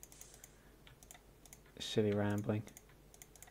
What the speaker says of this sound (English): bad mouse and keyboard sounds